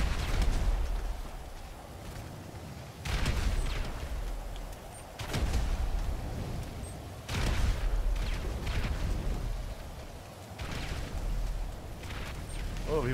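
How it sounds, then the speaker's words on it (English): Repeated booming explosions from online play in GTA Online, on PC, land every couple of seconds at moderate loudness. Each burst is sharp, and low rumbles and scattered game noise fill the gaps between them. "I just hear explosions everywhere."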